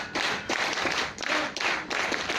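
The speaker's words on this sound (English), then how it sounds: "Clap, go." An audience at a forest rangers' centenary session claps in short rhythmic bursts, about four surges of applause rising and falling in quick succession, fairly close and without talk.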